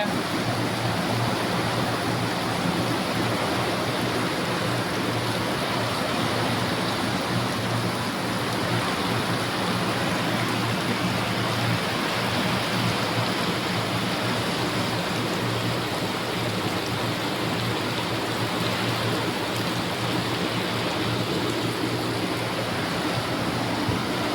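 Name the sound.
heavy rain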